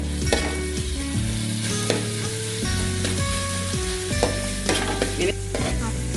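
Slit green chillies and onion sautéing in a pan for Kerala-style pepper chicken, with a steady close sizzle broken by repeated spoon scrapes and clinks against the pan, no voices.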